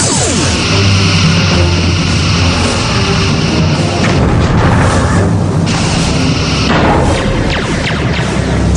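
Phaser fire and impact explosions in the space combat game Star Trek Bridge Commander, a loud, dense, continuous barrage of booms, crashes and sweeping energy blasts with no pauses.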